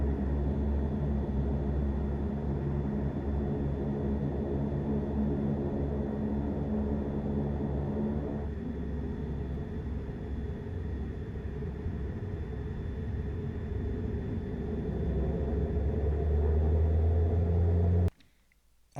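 Steady, loud low-frequency engine drone and rumble inside a Regional Express airliner cabin in flight after leaving Richmond, continuous with a slight shift partway through, then cutting off abruptly near the end.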